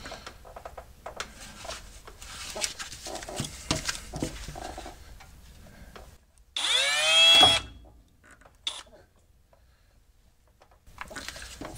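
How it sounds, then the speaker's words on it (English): On a Ford Excursion Super Duty twin I-beam front suspension, a power drill with a cheap Harbor Freight bit bores into a bushing. A short, sharp burst of about a second follows scattered clanks and handling noise, then quiet taps. "I'm using cheap Harbor Freight bits that are probably going to break"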